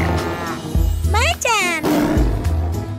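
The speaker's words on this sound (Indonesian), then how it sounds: "Macan, rar, rar." A tiger roar in a children's cartoon is voiced in a playful singing tone, with loud growling bursts over a bouncy musical backing.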